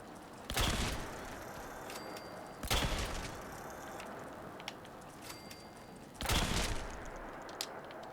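A one-star Berserker's Gauss rifle fires in Fallout 76, three heavy, sharp discharges a few seconds apart, each with a booming burst and a short decaying tail, with faint game sounds between them.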